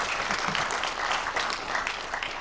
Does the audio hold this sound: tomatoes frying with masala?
no